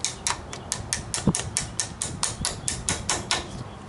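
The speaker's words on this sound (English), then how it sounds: "Once again, some gentle tapping." A hammer gently taps a front brake caliper pin on a Toyota Tundra, Sequoia, 4Runner or Tacoma: about sixteen light, quick metallic taps in a steady rhythm, close by with no talking.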